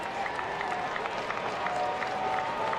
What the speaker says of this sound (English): And applause from the crowd, John.